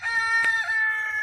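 A chicken calls nearby in a loud, tonal, crowing cluck with a short sharp accent partway through, heard close and on its own.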